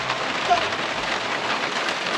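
Steady rain falls on surfaces in a rural farming setting, a dense, even hiss that runs evenly through the whole stretch and stays loud and close.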